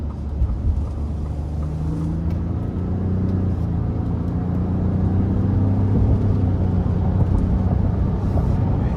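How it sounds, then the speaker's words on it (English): A 2023 Ford F-150 Lariat PowerBoost V6 hybrid pickup cruises on an interstate, giving a steady, continuous low rumble of engine and road noise heard from inside the cab. "the sound of the truck is great as well"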